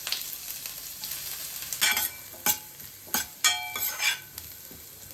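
Onions and green chillies fry in a home-kitchen pan, a steady soft sizzle broken by several louder bursts as the pieces are stirred, close by with no talking.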